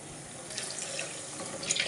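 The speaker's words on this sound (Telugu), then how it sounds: "ఇందులో వాటర్ యాడ్ చేద్దాం." Water pours into a cooking shorva made with coconut and peanuts, a steady splashing gush that runs close and fairly quiet, with a few brighter splashes near the end.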